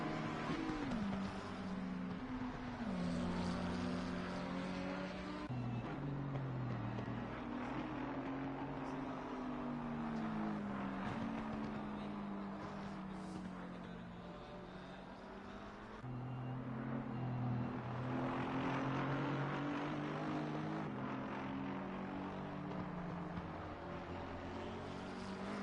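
Racing cars, among them the 555 McLaren, drone continuously at Paul Ricard in a racing game, with layered engine tones rising and falling as the cars pass through the circuit, steady and fairly loud without voices.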